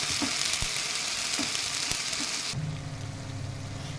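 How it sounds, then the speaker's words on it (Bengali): Steady, crackling sizzle of spice paste frying in hot oil for a bhetki fish-head kalia, with a few soft clinks of a utensil stirring; the hiss settles lower and duller toward the end. "আর মশলাটা ভাজা হচ্ছে"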